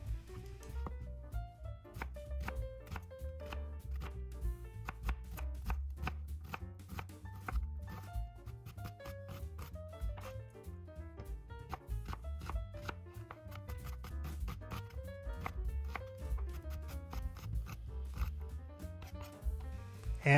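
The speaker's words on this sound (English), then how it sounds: "people like to see how I chop up the vegetables, and I'm going to show you" Onions being chopped with a knife on a board, a fast sped-up run of dense, crisp blade taps continuing throughout, fairly quiet, with no speech.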